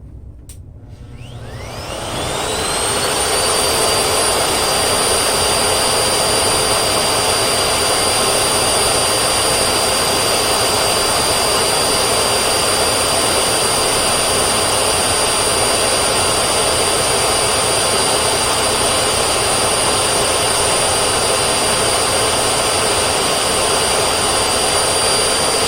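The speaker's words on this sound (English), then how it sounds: "No filters, full power." A Miele Jazz S7280 vacuum cleaner spins up from silence and runs at full power with its filters removed, a loud, steady roar with a high whine that holds constant for the rest of the stretch.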